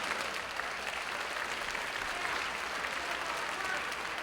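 A large audience at a public healthcare forum at Jefferson College applauds continuously in a dense, even wash of clapping that holds steady throughout without easing.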